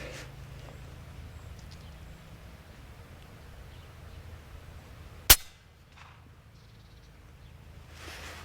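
An FX Impact MKII air rifle fires a slug through a chronograph at 100 meters: one sharp, loud crack stands alone amid quiet background hum, followed by a faint trailing tail.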